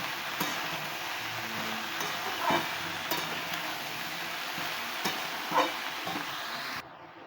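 Fried vegetables for a milk bottle-gourd curry being turned in a pan, a low steady sizzle broken by occasional clicks and scrapes of a utensil, close and fairly quiet, cutting out abruptly at the end.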